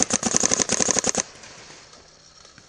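A paintball marker fires a rapid, steady string of paint rounds close by, about a dozen sharp pops in just over a second, then stops and leaves faint outdoor quiet.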